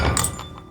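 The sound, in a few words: glass cup knocked off a hassock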